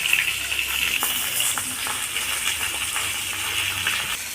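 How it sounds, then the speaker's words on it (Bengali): Snakehead fish fry in hot oil in a pan, giving a steady, dense sizzle throughout with faint scraping touches and no talk. "আমার এই মাছগুলো ভাজা হয়ে গেছে, আমি এবার উঠিয়ে নিই।"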